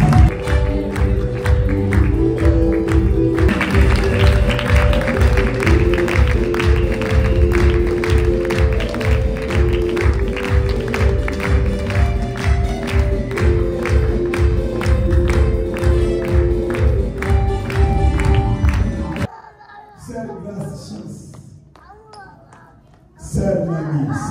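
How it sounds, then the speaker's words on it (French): Church congregation at a Christian gathering in Sherbrooke cheering and clapping in rhythmic unison with music, loud and sustained for most of the stretch, then dropping off abruptly to quieter mixed voices and noise. "Ah, nous acclamons le Seigneur."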